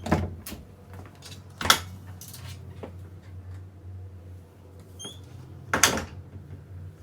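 Apartment bedroom closet door swung open, a few soft knocks and sliding scrapes with a couple of sharper thumps, close and fairly quiet against a low room hum.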